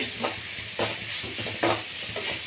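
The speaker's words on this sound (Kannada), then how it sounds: "ಈರುಳ್ಳಿ ಚಂದಕ್ಕೆ ಫ್ರೈ ಆಗಲಿ" Onions fry in a pan for a simple home-cooked dish, a soft sizzle under several distinct scraping stir strokes at short intervals, with no talk.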